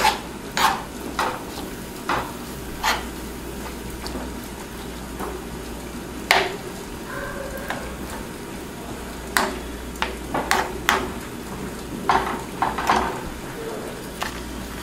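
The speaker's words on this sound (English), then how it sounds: "I'm just gonna keep stirring it and have a little bit of a higher flame" A spoon stirs oatmeal in a pot on the stove over a higher flame, giving soft scraping strokes and occasional clinks at an uneven pace, close and fairly quiet over a steady low hum.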